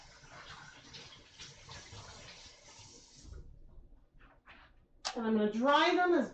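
Tap water gushes steadily into a container being rinsed out after yarn-dyeing stock solutions, running for about three seconds before stopping, followed by a person speaking.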